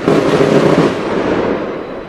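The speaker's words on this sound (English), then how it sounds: "I'm going to take this little one inside and hide from the fireworks" A dense roar of fireworks in Positano rumbles continuously, with the heavy booms blurring together into a loud, sustained wash that eases slightly toward the end.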